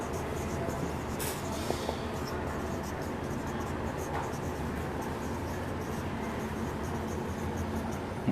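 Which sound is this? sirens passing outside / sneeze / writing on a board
writing on a board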